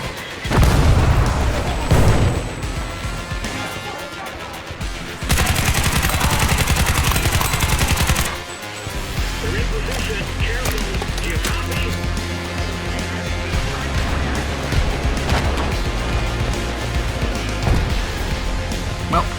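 Heavy gunfire and explosions rip through a War Thunder infantry battle: rapid automatic bursts, booming blasts and a dense, loud barrage continue for almost twenty seconds with hardly a break.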